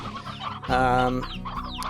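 Chickens in the farming video game Slime Rancher cluck in a steady stream of short calls, with one louder, drawn-out squawk partway through, close and clear with no talking over it.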